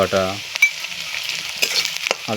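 Onion and spices sizzle in a hot pan for egg tarka, a bright continuous frying hiss with occasional stirring clatter, close up, with a short voice at the start and end.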